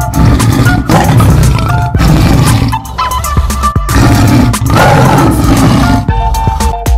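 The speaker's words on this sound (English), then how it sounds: "A tiger makes a grr sound." A tiger roars loudly and repeatedly, deep rumbling bursts in close succession with short pauses between them, heard alone.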